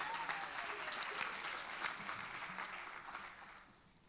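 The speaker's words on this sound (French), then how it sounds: "Applaudissons pour ces vaillants." A church congregation applauds choir volunteers in a steady burst of clapping that gradually fades out over a few seconds.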